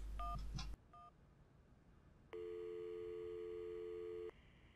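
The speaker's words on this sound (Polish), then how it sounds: "Zadzwonimy pod ten numer telefonu." Telephone keypad tones beep in a quick sequence as a number is dialed in the Syberia video game, followed after a pause by a single long, steady electronic ring tone.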